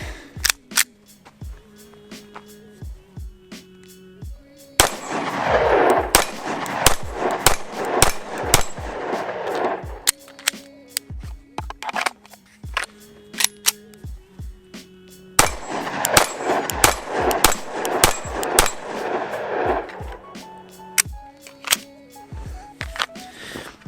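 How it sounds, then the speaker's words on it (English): A Staccato CS pistol fires in two back-to-back strings of rapid shots at an outdoor range, each burst several seconds long with loud, sharp cracks, separated by quieter clicks and handling sounds. "So let's go just shoot a little bit."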